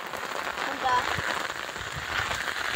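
Heavy rain falls outdoors on an open rocky plateau in the Konkan countryside, a steady, even hiss of drops on the ground and surfaces that continues without a break.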